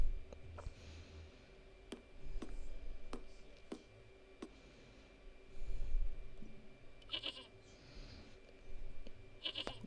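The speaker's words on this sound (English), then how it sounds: "Goat's not happy." Goat in the video game Broken Sword: Shadow of the Templars Reforged lets out a couple of short, bright bleats toward the end, over a quiet ambient game background with occasional sharp ticking clicks.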